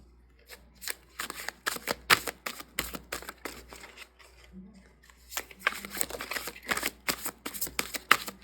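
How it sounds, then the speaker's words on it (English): Tarot cards are shuffled repeatedly in quick crisp riffles and snaps, close to the microphone, with a short quiet pause midway. "Now I'm going to shuffle this one more time, and then we're going to get a new pile."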